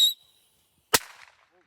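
A single firecracker blast goes off near, sharp and loud, with a crackling tail that fades over about half a second after a brief high squeal at the start.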